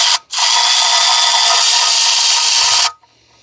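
A power tool spins loosening and removing valve cover bolts on a 1968 Ford Thunderbird 429 engine, one loud, steady high whir lasting under three seconds after a brief blip, then stopping abruptly.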